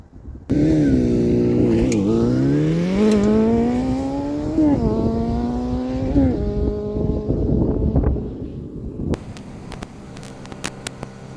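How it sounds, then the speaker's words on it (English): A Kawasaki Zephyr 550 motorcycle with a louder modified exhaust, its condenser box removed, starts and revs repeatedly, rising and falling in pitch, then settles to a lumpy idle with sharp clicks near the end. "I did put the original exhaust system back on this bike, but I did cut off the condenser box and plate it off, so it is a bit louder"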